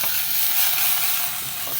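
Fish dropped into a hot pan with roasting ingredients, giving a loud, steady, close hiss of frying that holds unbroken with no talking.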